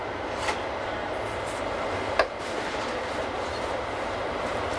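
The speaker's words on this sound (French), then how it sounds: "La locomotive tirant notre train est une des 9 motrices GE 443 livrées en 1994 par SLM Winterthur" A Swiss Glacier Express train hauled by a GE 4/4 III electric locomotive built in 1994 by SLM Winterthur rolls steadily along, a continuous broadband rumble of wheels and carriages with a couple of brief sharp clacks.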